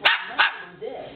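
A dog barks twice in quick succession close by, then gives a short whine-like growl.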